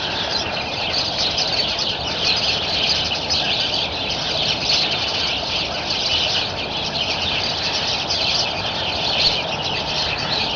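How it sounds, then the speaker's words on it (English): Many birds call and chirp just outside a window in the morning, a dense, steady chorus with a low background rumble running through it. "So I come out this morning, and these are all the birds that are waiting for me."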